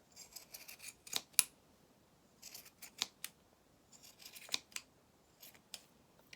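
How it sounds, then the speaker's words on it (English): Quiet, crisp scissor snips trimming a yarn pom-pom in short irregular bursts, several quick cuts at a time with brief pauses between, close by and alone. "you just start giving it a bit of a haircut, because that then makes the pom-pom a little bit more dense"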